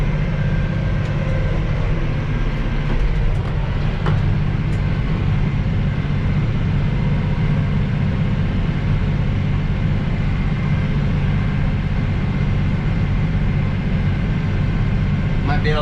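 A hay-making tractor rumbles steadily and loudly close by, its low engine drone shifting into a lower gear and pulling away, with faint clanks over the continuous roar and a person speaking under it.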